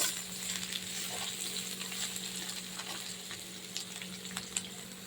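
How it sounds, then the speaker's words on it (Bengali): Water lily stems stir-fry in hot garlic oil, a soft, continuous sizzle with scattered crackles and pops, faint and close, with no voices. "রসুন তেলে একটু সুন্দর করে শাপলাটাকে মেশাবো।"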